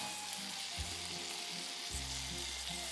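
Fish fries in a pan with citrus and pepper, giving a steady, close crackling sizzle throughout with low thumps from the pan, no voices.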